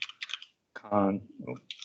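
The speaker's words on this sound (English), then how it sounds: "I'm typing, but it's very slow for some reason." Keys clatter on a computer keyboard during a CRM software webcast, brief bursts of clicking before and after a stretch of someone talking nearby.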